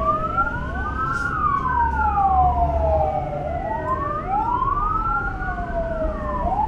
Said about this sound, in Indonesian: ternyata pemadam kebakaran